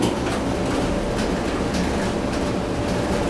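A steady, loud mechanical rumble with a rhythmic tumbling hum, a clothes dryer with a failing belt running continuously with no voices.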